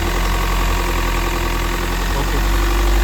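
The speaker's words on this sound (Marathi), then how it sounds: "थोडी रेस करा." A second-hand Mahindra Scorpio's engine runs steadily up close, a constant low rumble with a slight rise in intensity near the end.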